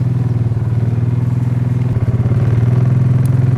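A snowmobile engine runs steadily on a snow trail, a loud, close, rumbling drone with a faint rhythmic pulse throughout and a slight rise in pitch toward the end, with no voices.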